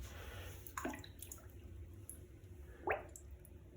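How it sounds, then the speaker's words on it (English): A brass instrument mouthpiece is dipped into water, giving a couple of soft, close drips and splashy squishes against quiet room background. "You just submerge it in the water."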